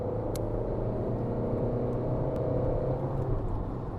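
Tata Altroz hatchback accelerating from a standing launch, a loud, dense engine roar and road rumble building steadily throughout, close and unbroken, with no speech over it.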